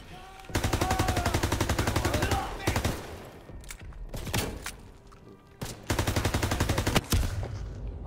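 Rapid automatic gunfire bursts in a D-Day combat video game, loud sustained volleys broken by single shots and pauses, with faint voices in the background.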